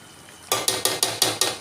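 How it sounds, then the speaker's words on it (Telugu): Mutton curry cooking in a pan where the oil has separated, stirred in six quick, evenly spaced scraping strokes over a faint sizzle, close and fairly loud with no voices. "మటన్ అనేది మంచిగా నూనెలో ఉడికి ఆయిల్ మొత్తం సపరేట్ అయిపోయింది"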